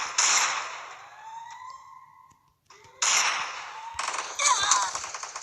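Gunfire in a video game rings out in sharp, loud bursts, a rapid volley at the start followed by two more heavy bursts after a short quiet gap.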